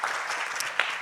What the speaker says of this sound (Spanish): Un aplauso a la Floristería